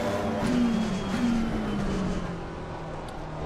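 A race car in a simracing game, its engine droning steadily as the pitch shifts up and down through a couple of corners, loud and continuous with no talking.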